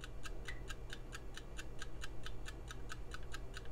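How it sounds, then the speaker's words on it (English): A kitchen timer ticks in a fast, even rhythm, each tick crisp and close, with nothing else over it. "set a timer for 11 minutes"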